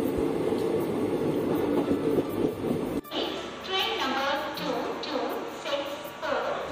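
The 12881 Garib Rath Express from Shalimar to Puri pulls out of Balasore station with a steady rolling rumble and rattle heard from onboard. Partway through, the sound shifts abruptly to a lighter, tonal passage in which a voice is heard over the fainter train.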